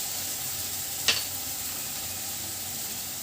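Spices frying in a pan on medium heat for mutton keema ghugni give a steady, soft sizzle, broken by a single brief sharp crackle early on.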